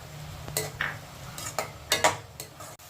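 Fennel seeds go into onions frying in a pan for spicy beef boti and get stirred, making a series of close scraping strokes and light metal clinks over a soft, steady sizzle.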